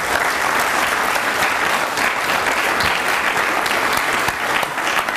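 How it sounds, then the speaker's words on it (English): A packed hall claps loudly and continuously for a panel discussion, a thick, unbroken roar of applause with no break in its steady texture. "let's give them a round of applause"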